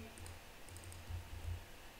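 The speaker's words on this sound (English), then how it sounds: "you are typing this as I'm typing this on my laptop" Typing on a laptop keyboard while entering data into MySQL: a quiet, close run of light key clicks in two short bursts over a soft background hiss.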